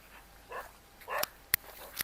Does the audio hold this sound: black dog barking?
yes